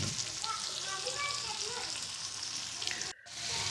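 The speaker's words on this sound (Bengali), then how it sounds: "কড়াইয়ের ভিতরে এই মাছগুলো রেখে দিয়েছি এখন রান্না করার জন্য।" Fish with spices frying in a wok, a dense continuous sizzle and crackle held close and steady, briefly cut off near the end, with no speech.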